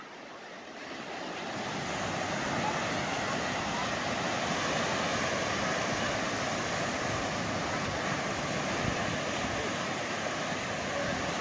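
Ocean surf at Bethune Beach, Florida rolls in as a broad, constant wash, loud and close, with wind noise buffeting the microphone throughout.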